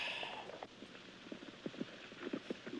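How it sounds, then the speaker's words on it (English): Horses ridden at a trot in a 1934 western, hooves clip-clopping in a quick uneven rhythm at moderate distance over faint background hiss. "Riding more horses through these lines."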